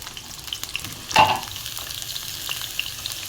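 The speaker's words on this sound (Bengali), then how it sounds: "এই দেখো আলুগুলো ছেড়ে দিলাম আলুগুলো ভাজি মাংসের আলু" Potatoes for a meat curry hit hot cooking oil with a sudden loud sizzling burst, which then settles into a steady, lower crackle of frying with no voices.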